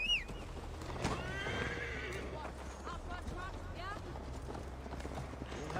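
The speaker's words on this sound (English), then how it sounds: "Mount up, Eivor. It's a long ride to Tamworth" A horse whinnies and gallops with steady hoofbeats while riding in the Viking-era video game Assassin's Creed Valhalla, with game music and characters talking over the continuous clip-clop.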